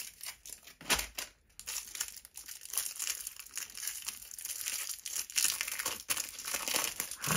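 Plastic wrapping on a Halloween pumpkin figure from a children's magazine is peeled open. Close, continuous crinkling and crackling comes in uneven bursts.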